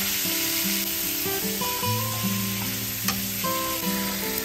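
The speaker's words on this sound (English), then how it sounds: "That sound of that sizzle, gives me chills down my spine." Bacon sizzles and crackles steadily in a frying pan, with a constant close hiss and occasional pops and no talk.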